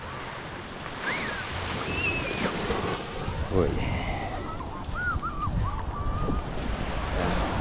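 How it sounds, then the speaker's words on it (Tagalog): Gentle waves lapping on a calm sea, a soft continuous wash with wind buffeting the microphone, while a person's voice cuts in briefly and a few high whistling sounds rise over it. "Ang ganda na ng dagat ngayon, wala nang gasinong alon."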